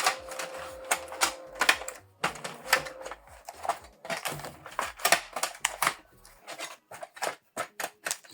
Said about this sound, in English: So you load the paper this way.